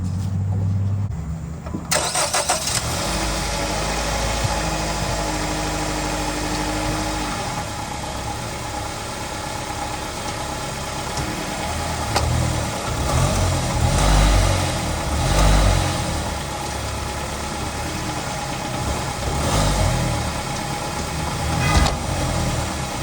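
A Ram ProMaster City van engine with a worn rear engine mount cranks and catches after a couple of seconds, then settles into a steady, close idle with occasional small revs and clunks.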